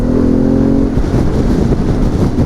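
A Harley-Davidson Pan America motorcycle engine and exhaust rumble loudly while riding, with a steady low drone that shifts in pitch partway through as the bike pulls.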